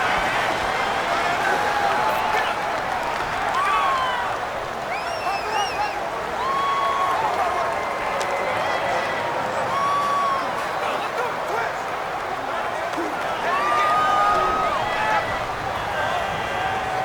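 A stadium crowd in the Madden NFL 19 football game roars and cheers continuously throughout, a loud, sustained wash of crowd noise under a commentator talking.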